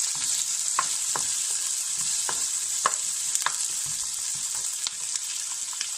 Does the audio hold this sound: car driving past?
no